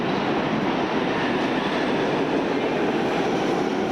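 A New York subway train in 2001 gives a steady, loud rumble and rattle throughout the short stretch, heard as a continuous roar without voices.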